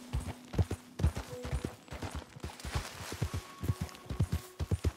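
Horse hooves clip-clopping at a steady walking rhythm in the Red Dead Redemption 2 video game, close and clear, with faint background tones and no talk.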